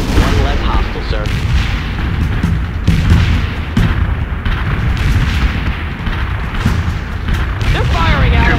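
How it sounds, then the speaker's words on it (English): Repeated mortar strike explosions in the war game World in Conflict, heavy booms and rumbling impacts landing one after another over dense battle noise, with gunfire and voices talking over the barrage. "Mortar strike inbound."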